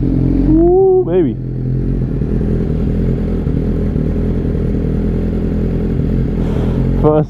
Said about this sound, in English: First startup of the R6 on the channel